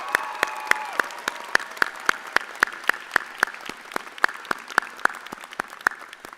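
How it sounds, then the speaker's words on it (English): A commencement audience at the UCI Law ceremony claps for the faculty: sparse, evenly spaced handclaps that are crisp, close and individual rather than a dense roar, with a faint tone underneath early on. "if you could join me in a round of applause to thank them and congratulate them"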